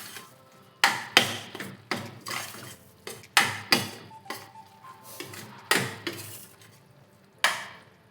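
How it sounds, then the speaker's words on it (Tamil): Tomatoes being mashed in a pan while sautéing for a double beans kurma, a series of sharp, close metal taps and scrapes of a utensil against the pan, irregularly spaced with short pauses between strikes. "இந்த தக்காளியில் நல்லா மேஷ் பண்ணிவிடுங்க."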